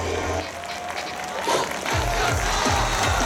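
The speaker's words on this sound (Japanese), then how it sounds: "今一度大きな拍手をお願いいたします。" Crowd applause and cheering at an outdoor festival award ceremony in Japan, steady dense clapping across the whole stretch with music or bass thumps entering partway through.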